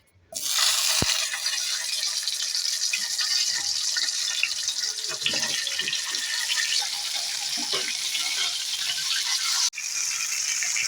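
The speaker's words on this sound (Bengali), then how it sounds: "তেলটা গরম হয়ে গেছে এবার মাছগুলো ভেজে দিচ্ছি" Pomfret fish frying in hot mustard oil in a pan, a steady dense crackling sizzle that starts abruptly and runs close and continuous, with a brief dip near the end.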